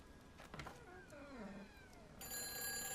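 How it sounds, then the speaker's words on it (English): A telephone rings inside a quiet lakeside scene in the game Everyone's Gone to the Rapture. Its steady electronic tone cuts in partway through, after some faint gliding, wavering sounds. "Is that a phone? It is."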